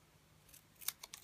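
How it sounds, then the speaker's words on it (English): Scissors snip through paper card for a Christmas card project, a few short crisp cuts clustered near the end, fairly quiet and close with no talk. "I'm now going to get the scissors, and I'm just going to cut into"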